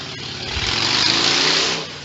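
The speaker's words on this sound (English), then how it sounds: "It's a motorcycle." A motorcycle engine swells and fades as it passes by on a city street, a brief mid-pitched drone rising to a peak and then trailing off.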